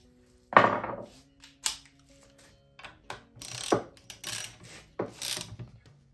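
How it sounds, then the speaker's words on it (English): A saw wrench on the bar nuts of a McCulloch Pro Mac 555 chainsaw with a 28-inch bar, heard as close metallic clanks, scrapes and ratcheting clicks in irregular bursts, with no talk over them. "When I tighten bar nuts,"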